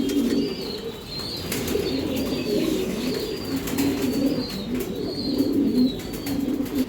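Racing pigeons coo in soft, repeated rolling phrases that carry on steadily throughout, with a few faint higher chirps and a constant low murmur of flock activity close by.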